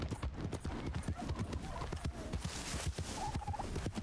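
Horse hooves clip-clop steadily in Red Dead Redemption 2, a quick rhythmic run of close, distinct hoof strikes over a busy game soundscape with a brief gobbling fowl call.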